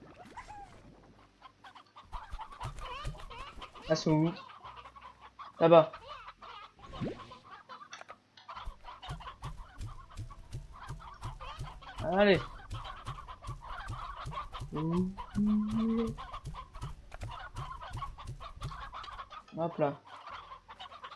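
Video-game chickens in Slime Rancher cluck repeatedly over a soft, steady game background, while people talk now and then in French.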